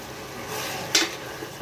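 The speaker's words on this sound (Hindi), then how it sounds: "अभी मैं इसको और अच्छी तरह से इसको मिला लूंगा।" Mutton and onions being stirred together in a cooking pot, a soft scraping mix with one sharper clink of the utensil against the pot midway, close and fairly quiet.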